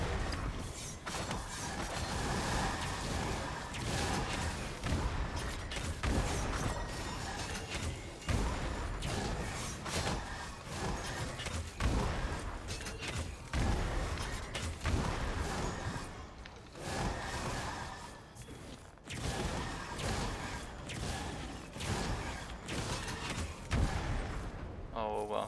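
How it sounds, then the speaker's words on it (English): Dense, continuous volleys of booms and blasts in the video game Wolcen: Lords of Mayhem pound away, mixed with gunfire-like cracks and mechanical clanks. "Oh wow, so many explosions."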